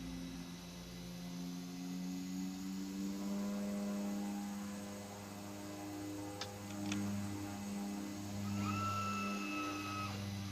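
A steady, droning twin-engine turboprop hum from a Twin Otter aircraft in a flight simulator game holds on the runway, with tonal whine layers, a couple of faint ticks and a brief higher tone near the end.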